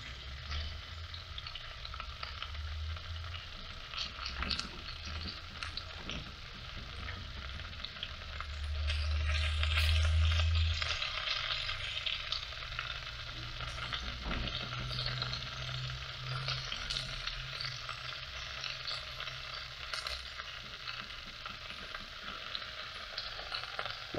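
Vegetables frying and browning in a Dutch oven, a steady crackling sizzle with scattered pops and clicks, swelling briefly in the middle, heard up close.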